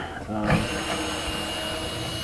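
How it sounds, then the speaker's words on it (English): Power screw gun backing screws out of an Xbox console during an RGH modding job, a steady close mechanical whir running the whole time after a brief quieter start. "So I'm taking those out with my screw gun"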